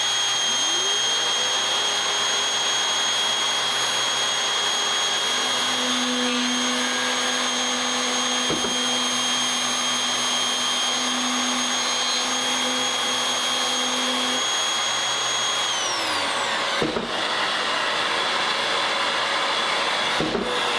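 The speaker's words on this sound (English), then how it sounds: "Now let's go ahead and utilize the Mafell dual doweler" A Mafell Duo Doweler with a dust extraction hose attached whines at a high, steady pitch, with an extractor roaring underneath and brief cutting pulses, then spins down near the end and stops.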